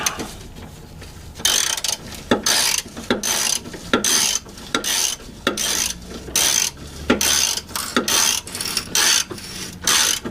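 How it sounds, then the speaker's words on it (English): Close ratchet wrench clicking steadily while turning a fastener on a Sunfire GT 2.4L engine, repeated rapid ratcheting bursts with short pauses between strokes, no talking. "So we'll need a ratchet."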